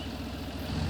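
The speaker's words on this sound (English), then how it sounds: "And this time we have a Zetor tractor. It's a Zetor Proxima HS80." A Zetor Proxima HS80 tractor idling in a farming video game, a low steady engine rumble with a faint regular pulse, continuous and close.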